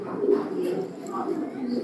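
A racing pigeon coos in short, soft, rolling bursts close by, with a person talking alongside.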